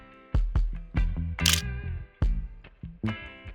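An Olympus XA2 film camera clicks repeatedly with sharp, close shutter releases and small mechanical snaps, a handful of distinct bursts spaced irregularly, heard alone.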